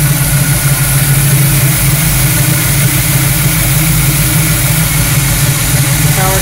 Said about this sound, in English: give you one more good view of the engine running